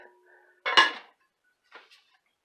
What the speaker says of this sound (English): we're gonna just go ahead and close the lid